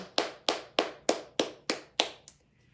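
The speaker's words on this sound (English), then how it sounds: "matching the palms for a quiet, clear clapping" Quiet, clear hand clapping during a guided movement session, seven crisp even claps about half a second apart, close and alone, followed by a faint soft tap.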